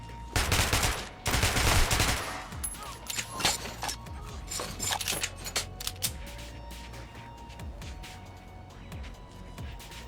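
Rapid bursts of automatic gunfire and single shots from combat in the video game Metro Last Light, loud and dense at first, then thinning into scattered shots and clatter.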